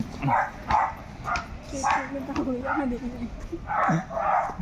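A friendly neighborhood dog named Chuchu in Lagro, Quezon City gives several short, moderately close yips and barks, scattered through the stretch alongside people talking.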